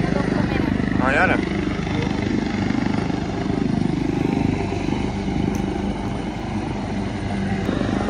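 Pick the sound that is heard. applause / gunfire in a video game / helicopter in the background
helicopter in the background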